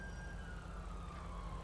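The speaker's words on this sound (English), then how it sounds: "the cops are coming, and so is an ambulance" Police car and ambulance sirens in GTA 5 wail as a single sustained, slowly falling tone over a low engine rumble, faint and distant, with no voices.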